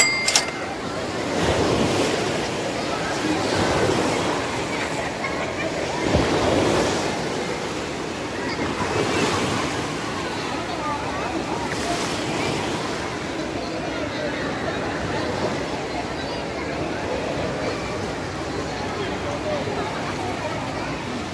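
Waves in an outdoor resort wave pool at an urban residence in Parañaque wash and surge in repeated swells with steady wind noise on the microphone, fairly loud and continuous, then gradually settle.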